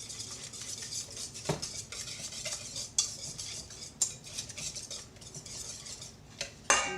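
A spoon stirs fresh lemon juice into a crab cake mixture in a bowl. Quick, steady metallic clinks and scrapes follow each other closely, a few louder knocks stand out, and no one speaks.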